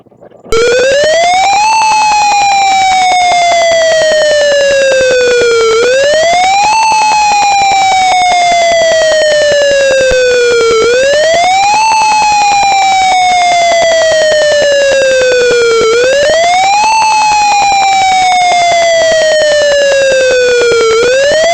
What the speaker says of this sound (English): the air raid siren.